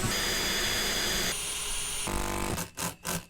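A power drill whines and grinds through fiberglass nearby, its pitch shifting as it bites, then stops and starts in short bursts at the end.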